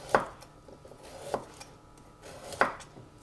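Knife chopping carrots into thick rounds on a cutting board, three sharp, spaced thuds, close and fairly quiet.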